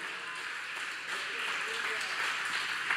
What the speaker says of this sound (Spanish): Denle un aplauso fuerte al Rey de Reyes y Señor de Señores.